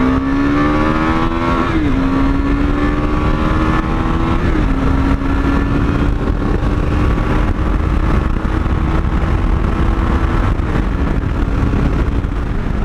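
KTM 390 motorcycle accelerating hard up a freeway on-ramp, its single-cylinder engine climbing in pitch with a brief dip at each gear shift, loud and steady throughout with strong wind rush.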